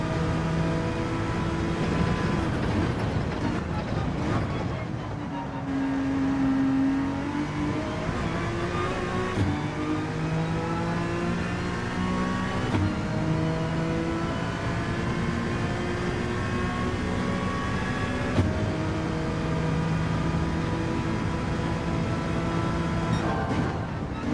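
A race car engine in Gran Turismo 7 on intermediate tyres drones steadily, its pitch climbing through the gears and dropping at each upshift across a long run, constant and close.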